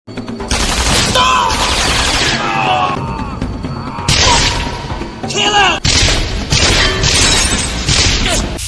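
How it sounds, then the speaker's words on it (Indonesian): Dense film gunfight with sustained bursts of gunfire and sharp shots, loud and continuous, echoing through a hospital setting with intermittent breaks between volleys. "Adu tembak terus berlanjut."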